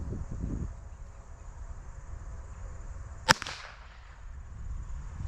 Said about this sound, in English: now we got the CCI Quiets loaded in the Walther P22